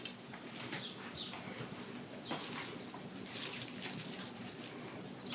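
Tap water runs steadily into a kitchen sink while zucchini is rinsed during tomato sauce preparation, a soft continuous wash with a few brief splashes, no talking.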